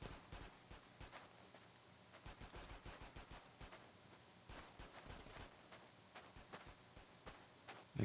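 Dense gunfire fills a GTA San Andreas Definitive Edition shootout, with rapid bursts and single cracks repeating steadily over a constant background bed and no voices.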